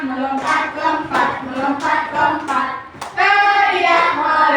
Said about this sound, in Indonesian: Bertepuk tangan,